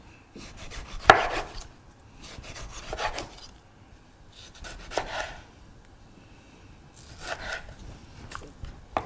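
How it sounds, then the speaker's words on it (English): A knife slicing through a tomato on a board during home cooking, with four separate bursts of cutting strokes spaced a couple of seconds apart, close and fairly quiet with near silence in between. "Just going to slice our tomato just into slices."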